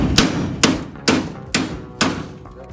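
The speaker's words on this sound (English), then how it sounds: "I try first with a soft blow hammer just to see if we can." Five evenly spaced, solid thuds of a soft blow hammer striking a suspension part on a 1970 Challenger, close and loud with brief decays between blows.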